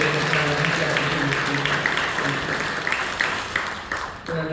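A church congregation in Incheon applauds during an early-morning Holy Week service, a dense continuous clatter of many hands that gradually fades, with a pastor speaking over it.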